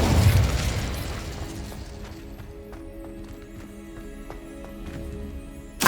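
Incendio fire spell cast in Hogwarts Legacy, a loud burst at the start that fades into a quieter stretch of small clicks and pops, with a second sharp burst at the very end.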